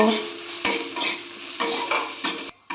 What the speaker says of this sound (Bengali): এবার মশলাগুলোকে খুব ভালো করে একটু আলুর সঙ্গে ভেজে নেব